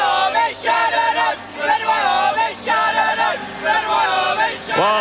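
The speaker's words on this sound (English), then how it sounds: "Well, I wonder just where they got that chant from." Ice hockey fans in an Olympic arena chant in unison, rhythmic sung phrases repeating roughly every second and a half, loud and close with crowd noise filling the gaps.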